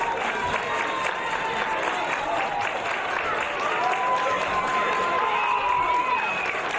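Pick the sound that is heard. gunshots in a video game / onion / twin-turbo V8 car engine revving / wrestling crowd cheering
wrestling crowd cheering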